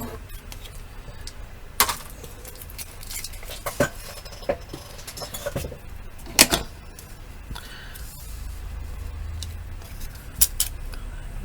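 Small shears trim the edges of a watercolour card, giving a scattering of crisp snips and clicks spread irregularly over a faint, steady background hum.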